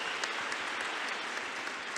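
Audience applause at a lecture hall event, a dense steady patter of clapping filling the room with no voices over it.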